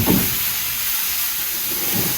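Lightly salt-and-peppered shrimp hitting a hot pan in a Jamaican kitchen in Negril, giving a steady close hiss of sizzling with brief louder bursts at the start and end.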